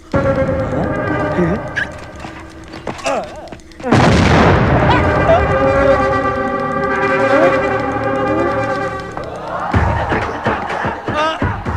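Bomb blasts erupt in a Telugu film comedy scene: a sudden loud boom around four seconds swells into a sustained roar of explosions and rumble under a music score, easing near the end as the score carries on.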